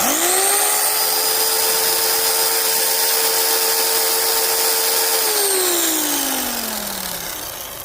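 A McCulloch Electramac EM 300S electric chainsaw with a dull chain runs at a steady high-pitched whine, close and loud, then winds down as the motor is released, no talking.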